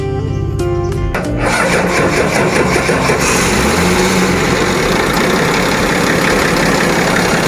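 An old lorry engine cranks for about a second, then catches and settles into a loud, steady, rumbling idle that runs close by without a break.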